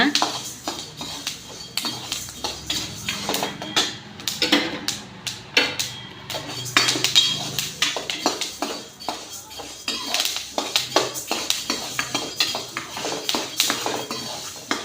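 Horse gram dry-roasts in an oil-free pan, with a spoon repeatedly scraping and clinking against the metal in an irregular rhythm, close and moderately loud, as someone speaks over the stirring.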